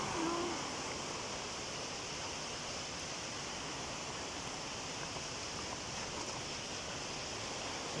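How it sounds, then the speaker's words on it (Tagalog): A waterfall pours with a steady, broadband rushing roar, even and continuous, heard from a moderate distance with no voices over it. "So you can see the waterfall."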